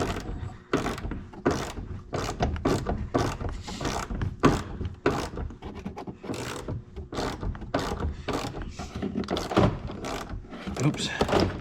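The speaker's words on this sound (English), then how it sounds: "just gonna finish taking these bolts out" A ratchet works loose the bolts holding a broken mirror on a Jeep Wrangler, making rapid, uneven bursts of clicking and clattering up close, with short pauses between strokes.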